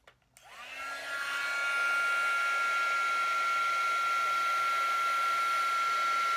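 A heat tool switches on with a brief click and ramps up into a loud, steady blowing hiss as it melts embossing powder on a Christmas card, holding constant up close.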